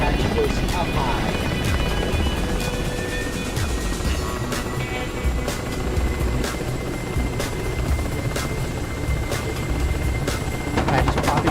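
An Apache helicopter in the DCS World flight simulator flies with a loud, steady rotor thump and turbine whine, accompanied by sharp clicks and bursts, while players talk over it.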